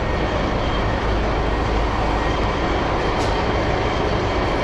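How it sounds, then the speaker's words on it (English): A garbage truck rumbles along a city street in Chinatown at night, its steady low engine roar and broadband traffic noise filling the scene continuously and fairly loud, with no voices. "There's a truck right there, garbage truck."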